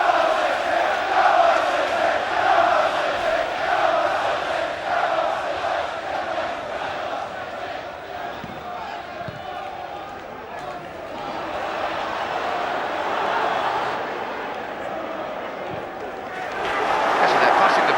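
Football stadium crowd at a Manchester United vs Exeter match gives off a steady, dense roar that dips slightly midway and swells again near the end.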